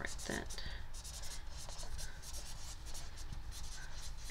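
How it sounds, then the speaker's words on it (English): Pen scratching and rubbing on paper as lecture notes are written by hand on a lap, a soft continuous scribble under a low steady background hiss. "It's like writing on the board in the classroom, but I'm writing it on it in my lap instead"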